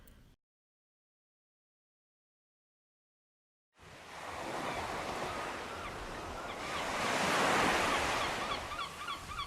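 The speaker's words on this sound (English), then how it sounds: "I love the beach and ocean." Ocean waves washing onto a beach, a steady roar of surf that starts after a short silence and swells louder toward the end, with some wind.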